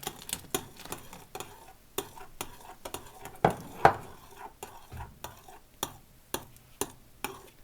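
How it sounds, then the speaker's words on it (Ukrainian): Boiling water is quickly stirred into a batter of sugar and cheese for crepes, giving a run of fast, regular scraping and clinking strokes with a brief splashy pour in the middle, close and fairly quiet, with no talking. "тепер вливаю сюди крутий окроп. і швидко перемішую"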